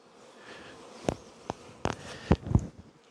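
Honey bees buzz around an open hive, with several short loud passes close by and a faint steady hum of the colony behind them.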